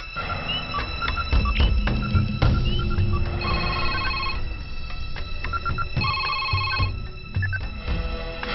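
A telephone rings repeatedly in bursts of trilling tones, fairly close, over a busy background of clatter and murmur.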